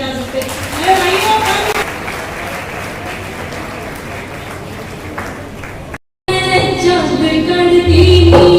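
Audience applause at an annual function of the Sindhu Foundation in Suratgarh, a loud continuous crowd clapping with a voice speaking over it, a brief cut, then clapping resuming alongside music.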